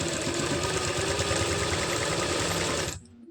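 Sewing machine running steadily while stitching along the pocket edge of plazo pants, a continuous close mechanical whir that stops abruptly near the end.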